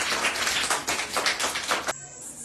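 A small group claps for a child in a phonics lesson, a few seconds of fast, close, uneven handclaps that stop abruptly.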